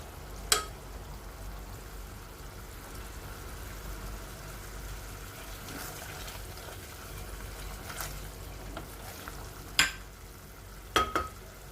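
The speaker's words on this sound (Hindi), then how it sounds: "प्याज ऐड करते हैं। दो से 3 मिनट के लिए इसको भूनेंगे।" Quiet, steady sizzle of onions frying in a pan, broken by a few sharp scrapes and clinks of a utensil against the cookware.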